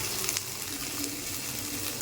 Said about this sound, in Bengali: তেলের মধ্যে পেঁয়াজ রসুন আদা বাটা দিয়ে দিলাম 1 চামচ করে